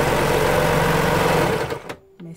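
A sewing machine stitches a hoodie for a sweatshirt dress, running loud and continuous up close before it winds down and stops, followed by a brief soft clunk.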